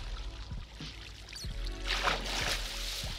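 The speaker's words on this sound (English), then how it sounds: "yeah, there's water coming from here." Flowing water in a Minecraft cave: a soft, close trickling and splashing that rises midway, mixed with faint thumps of footsteps and block sounds.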